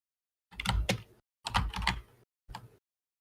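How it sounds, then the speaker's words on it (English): Quick typing on a computer keyboard in three short bursts of close, clattering keystrokes separated by brief silences, with no talking. "Who's typing?"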